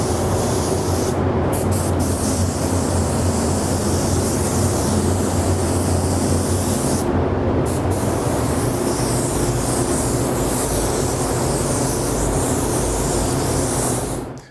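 Continuous loud hiss of a spray gun laying a light coat of paint in a spray booth, close and steady, broken by two short pauses in the spraying.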